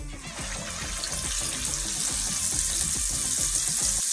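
Chicken drops into hot coconut oil and fries with a loud, close, steady crackling sizzle that builds slightly over a few seconds, no voices.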